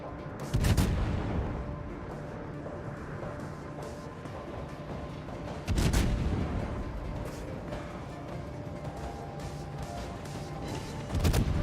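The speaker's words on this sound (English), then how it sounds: "Here's the AP from the Moskva." Naval guns fire in a World of Warships battle involving the Moskva and Des Moines, with deep booming blasts at about one, six and eleven seconds over a steady rumble of game ambience and no talk.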